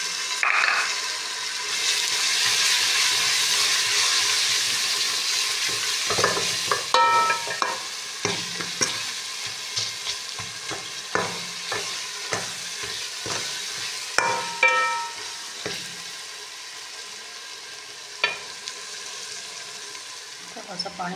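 Masala with turmeric and salt, loosened with a little water, sizzles steadily in a cooking pot while a spoon stirs and scrapes in irregular bursts, the frying hiss loud and continuous throughout.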